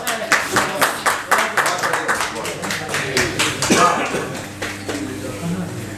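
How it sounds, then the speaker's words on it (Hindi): A small audience at a poetry gathering in Jaipur's Deewan-e-Khaas bursts into brisk, rhythmic hand-clapping, with a brief murmur of voices mid-way before the applause carries on, close and lively. "एक बार जोरदार तालियां भैया के लिए"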